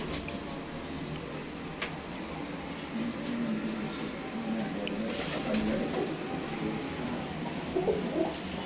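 Pigeons in a breeding loft, including patterned birds, give low throaty coos that surface intermittently over a background rustle, moderately faint and without speech.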